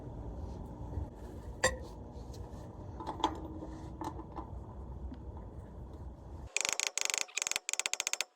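Ratcheting socket wrench working on a stuck lug nut with a sacrificial socket jammed over it: occasional creaks and clicks, then a rapid burst of loud, close metallic ratchet clicks near the end.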